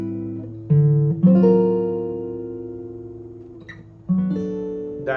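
Jazz guitar rings out a fully altered dominant chord with sharp nine and flat thirteen, strummed several times in a ii-V-I progression, each chord sustaining and slowly decaying, played alone.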